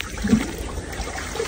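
Water is scooped with a dipper at a fishpond, making a close, gentle slosh and trickle that runs for a moment and then carries on in soft splashes.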